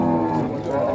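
A cow at a Purwantoro cattle market, where sacrificial cattle are sold, gives a loud, sustained low moo that fills the whole moment, close to the recorder.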